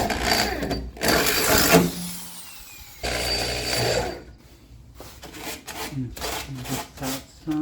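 A DeWalt drill bit bores into a Ford F150 truck bumper in bursts: two long loud grinding runs, a pause, then shorter choppy bites close by.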